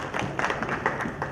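Scattered applause from a panel audience at a youth inclusion forum, a steady patter of claps at moderate distance with a few louder bursts, short and without voices.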